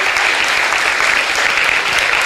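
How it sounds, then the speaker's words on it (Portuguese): A church congregation claps loudly and steadily at a cell-group gathering, a dense, continuous round of applause with no break. "Todo mundo dá um aplauso bem forte aí ao Senhor."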